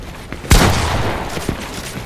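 A single loud, close gunshot blast sounds in a shooting video game. It decays into a short rumbling tail, and a fainter shot follows about a second later.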